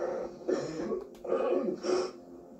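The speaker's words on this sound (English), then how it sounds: "You can't even stop coughing." A few rough coughs or throat-clearing bursts come in quick succession, close up and fairly loud, with short pauses between them.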